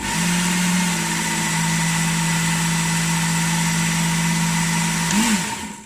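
A Work Sharp Ken Onion Edition knife sharpener motor runs steadily with a constant mid-pitched hum and whine, close and loud, then winds down at the end as the unit is switched off.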